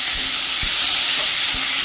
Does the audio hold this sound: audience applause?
no